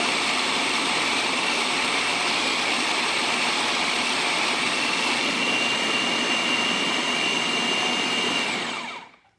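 A food processor roars steadily as it grinds almonds toward almond butter, a dense whirring motor noise held loud and even for several seconds before cutting off at the end.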